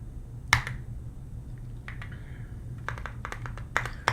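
Hand claps in a long-short rhythm ring out as a handful of sharp, crisp smacks, one early and a quicker cluster toward the end, fairly quiet and with no talk.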